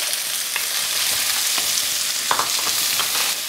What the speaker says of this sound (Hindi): वी विल कुक जब तक ये कलर चेंज ना कर लें, ट्रांसपेरेंट ना हो जाए अनियंस